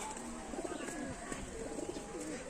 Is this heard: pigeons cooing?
yes